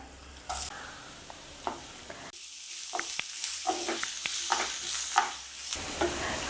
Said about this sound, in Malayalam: ഒരു മീഡിയം സൈസ് സവാള ചെറുതായിട്ട് അരിഞ്ഞത് കൂടി ചേർത്ത് കൊടുക്കാം